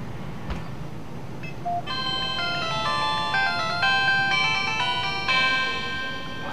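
A smartwatch's built-in speaker plays a short electronic startup melody as it is switched on, a bright sequence of beeping tones that steps up in pitch over several seconds, clear and close with no talking.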